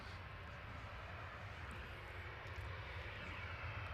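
A Jet2 Airbus A321 airliner on approach to land at Manchester Airport gives off a low, steady engine rumble that swells slightly toward the end. The sound stays moderately distant, with no talk over it.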